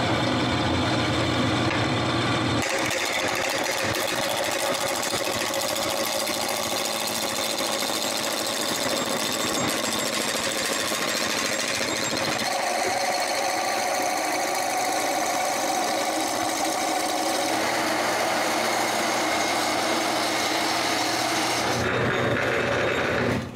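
A wood lathe turns a block of wood down into a cylinder, a steady rough whirring and scraping from the tool on the spinning workpiece, continuous and close for the whole stretch with slight changes in tone.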